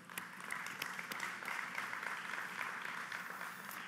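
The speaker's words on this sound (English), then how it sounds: "So please give them a round of applause." Applause from an awards ceremony audience honoring city staff, a steady, fairly faint patter of many hands lasting the whole stretch with no voices over it.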